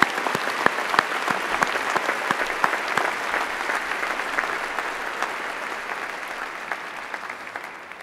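A graduation-day audience applauds the graduating physics class at Imperial College, a steady wash of many hands clapping with sharper individual claps standing out, holding level for the whole stretch and easing slightly toward the end.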